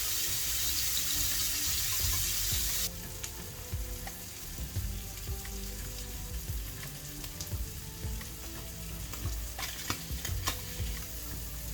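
Masala-coated mackerel sizzles in a hot pan for a Kerala fish fry, a loud crackling hiss that drops in level after a few seconds, then continues with scraping stirs and turning sounds.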